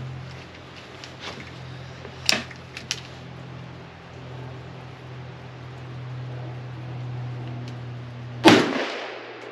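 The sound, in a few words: gunshots from an Alpha AK rifle firing Tula ammo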